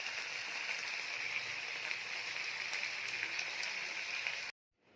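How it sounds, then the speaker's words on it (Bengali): Mutton kosha bubbles in a pot on the stove, a steady close hiss of simmering and sputtering that stops abruptly near the end. "আর এই যে এখানে ফুটছে মটন কষা"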